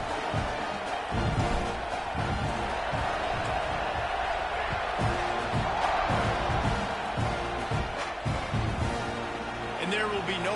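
Football stadium crowd roaring steadily through the whole stretch at a Texas A&M versus Ohio State game before kickoff, a loud, dense wash of cheers and shouts with bursts of whoops rising and falling.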